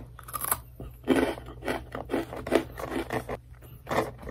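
Tea-flavored potato chips being chewed up close: quiet, crisp crunches in a quick irregular series of bursts, with no talk.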